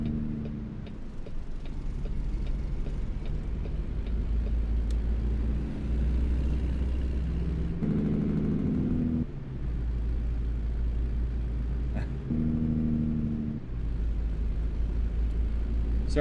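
Low, steady engine rumble from a truck in American Truck Simulator, running through the whole stretch with a faint ticking on top; no one talks.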